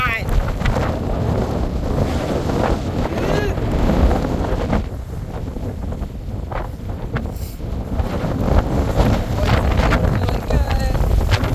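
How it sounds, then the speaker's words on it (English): Strong gusty wind roars across a sailing boat on an extremely windy day off Bali, heavy buffeting noise hitting the microphone continuously, with water and hull sounds mixed underneath. "So windy."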